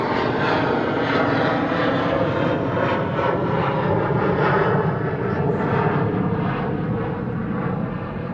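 A jet aircraft climbing out after takeoff at Schiphol gives a loud, steady, broadband engine roar that fills the whole stretch and eases slightly toward the end.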